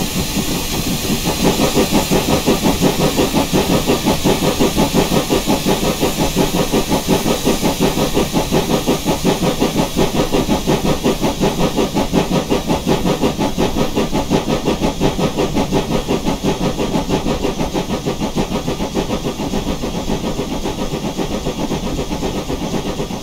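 A loud, steady chugging GWR steam locomotive engine from the video game Train Sim Classic, with hissing steam, runs continuously, its dense rhythmic pulses holding at a constant level throughout.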